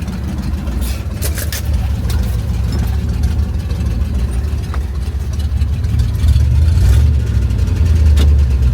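An International 200 4x4 wrecker truck runs and pulls away, its engine giving a steady low, rough drone that grows heavier and louder toward the end. Occasional clunks and knocks sound over it.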